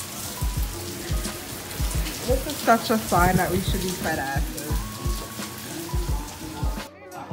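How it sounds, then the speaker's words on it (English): Heavy pouring rain drumming steadily outdoors on a surface, close and continuous, with people talking over it and a few thumps and footsteps mixed in. "It's pouring rain, guys."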